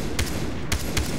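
A few sharp gunshot bursts in Far Cry 3 co-op pop against a dense, steady background of game noise, spaced unevenly across a second.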